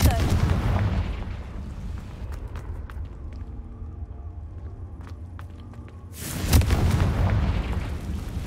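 A Confringo fire spell goes off in a cave in Hogwarts Legacy, with one booming blast at the start and a second sharp burst about six seconds later. Quieter game ambience with faint ticks fills the gap between them.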